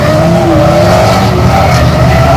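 Race cars at Bovingdon Raceway run loud and close on the home straight after a major incident, engines droning steadily with a whining tone for a couple of seconds.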